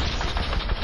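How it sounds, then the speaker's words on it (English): A quick burst of Fortnite gunfire, rapid dense shots rattling loudly and close with no pause. "I'm shooting him"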